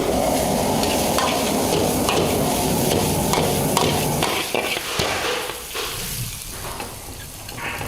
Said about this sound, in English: right now he's making a stir fry of snake.